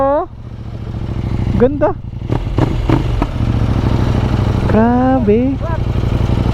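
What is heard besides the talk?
motorcycle with KTM 790 engine running and revving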